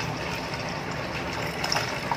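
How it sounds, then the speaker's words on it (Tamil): A steady stream of water is poured into a rasam masala paste for pepper rasam, making a continuous close gushing sound with no speech. "நான் வந்து 1 சொம்பு தண்ணி சேர்த்துருக்கேன்."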